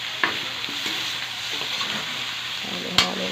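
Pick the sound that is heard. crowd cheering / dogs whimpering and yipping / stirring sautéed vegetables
stirring sautéed vegetables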